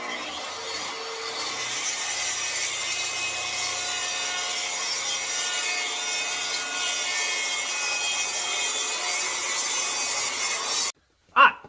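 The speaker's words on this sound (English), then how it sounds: "use my track saw to rip down one edge" A track saw rips along the edge of a walnut slab with a steady, high-pitched whine and cutting noise that runs loud and unbroken, then abruptly stops, followed by a brief knock.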